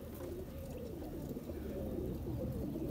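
Teddy pigeons, just let go, coo in low, throaty rolling phrases close by, steady and continuous for a few seconds with no talking.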